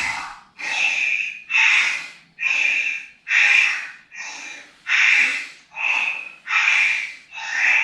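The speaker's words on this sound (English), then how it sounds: "Breathe in, breathe out." Deep, steady breathing during a yoga shoulder and arm rotation at home, about ten strong rhythmic breaths in and out, close and loud, each lasting under a second with short pauses between, and no talking.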